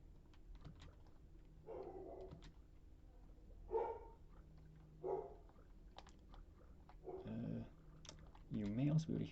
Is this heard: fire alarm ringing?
no